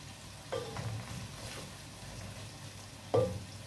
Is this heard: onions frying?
yes